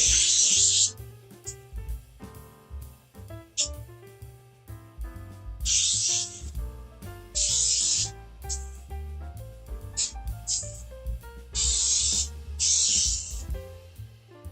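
Several short hissing bursts of cooking spray onto a muffin pan, each a second or so long, over scattered clinks and light handling noises.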